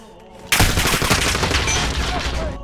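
Pistol fire in Call of Duty Modern Warfare bursts in suddenly after a quiet start, a loud, dense run of gunfire and impacts that continues to the end.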